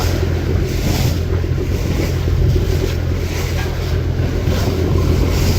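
Strong wind and rough, choppy river water wash steadily around a boat heading toward the Sundarbans, a loud, continuous roar with no speech.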